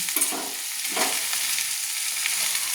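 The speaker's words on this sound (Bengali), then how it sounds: "তো আমি ভালো করে নেড়ে নিচ্ছি।" Yardlong beans and potatoes being stirred as they fry in a pan, a close, steady hiss of sizzling oil with soft scraping from the stirring.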